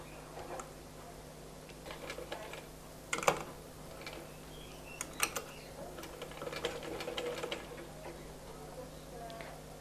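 A sewing machine stitches two fabric pieces of a baby top in quick ticking bursts, quiet and close, with pauses, clicks and faint background voices between runs.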